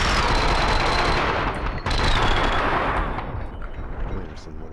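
Sustained automatic gunfire from a Max Payne 2 firefight, loud and dense throughout with overlapping bursts and shots, tapering slightly toward the end.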